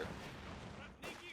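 Gunfire from the video game Company of Heroes 2 during a squad push on troops firing from building windows. It is a brief, faint, continuous rumble of distant battle.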